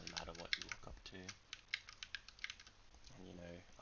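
Computer keyboard keys pressed in a run of quick, light clicks at close range, with someone talking over the start and end.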